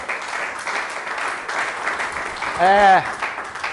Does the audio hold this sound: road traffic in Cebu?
no